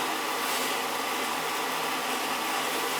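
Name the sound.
Tjernlund power venter running on oil boiler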